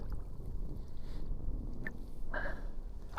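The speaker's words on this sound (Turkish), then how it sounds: "Rüzgar da esmeye başladı." Wind rumbles steadily against the microphone over water at night, with a few faint splashes and creaks from a belly boat used for fishing.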